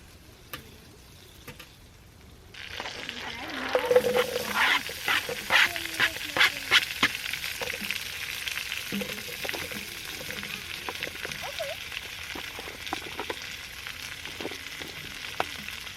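Pesto gnocchi fries in a fry bake pan over a wood stove outdoors, a soft steady sizzle with scattered light scrapes and clicks that swells after a quiet start and continues at moderate level.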